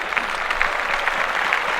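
Brief burst of applause on a sports podcast, a steady, dense patter of clapping that continues for about two seconds without pause.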